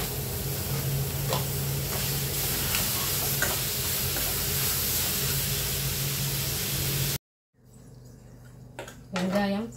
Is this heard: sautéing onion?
yes